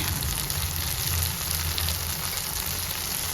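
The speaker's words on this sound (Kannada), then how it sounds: "ಇವಾಗ ಇದು ಫ್ರೈ ಆಗಲಿ, ಹಸಿ ವಾಸನೆ ಹೋಗಲಿ" Spices and squid masala fry in a pan with a steady, dense sizzle and crackle that holds unbroken from start to finish, close and fairly loud, with nobody talking.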